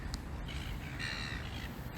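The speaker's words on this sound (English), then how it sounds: "there's all these birds there, but I can't see them" Crows caw in the open outdoors, several harsh, drawn-out calls rising over a steady rushing background, moderately distant and with no voices.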